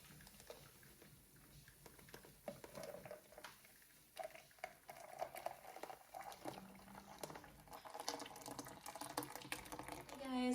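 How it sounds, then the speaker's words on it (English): Blended watermelon juice is strained through a sieve into a jug in a home kitchen, a faint, irregular trickle and patter of liquid that grows louder toward the end. "And now we just need to strain it into a jug."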